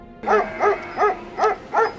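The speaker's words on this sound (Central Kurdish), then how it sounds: "مەگەر جوڵەی ئاژەڵ و دەنگی سەگە بەڕەڵاکان ببیسترێ" Five evenly spaced barks from a stray dog at night in the Shingal mountains, fairly close and loud, in a quick steady rhythm.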